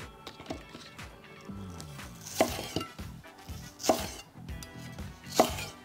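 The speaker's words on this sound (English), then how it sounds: "Just giving it a little bit of a roll while I slice it." A knife slices through zucchini or scallion on a cutting board in a home kitchen while preparing Korean bibimbap, with three sharp, distinct board strikes standing out over a busier run of softer cutting sounds.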